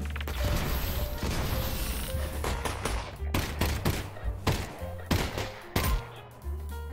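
A thrown grenade in an underwater Half-Life game setting, with several sharp bursts and clanking mechanical hits in close succession among steady rumbling noise.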